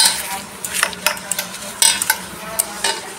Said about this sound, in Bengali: এখন একটু যে ডলে ডলে পরিষ্কার করছি